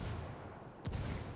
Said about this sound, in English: Let's see what this rebel mortar team can do.